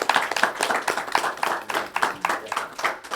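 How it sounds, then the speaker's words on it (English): Small group at a town council meeting applauding, a handful of people clapping in a loose rhythmic patter, close and clear with no talking. "Let's give Colonel Tom a round of applause for his service"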